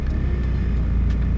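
A BMW 1 Series car engine idles steadily just after starting, a continuous low rumble with faint higher hiss, close and even throughout.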